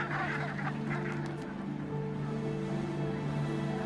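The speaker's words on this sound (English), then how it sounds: "Brent geese are gathering in large flocks, ready to fly south." A flock of Brent geese gathering on the tundra honks in overlapping calls, some nearer and some farther off, over a steady low background hum.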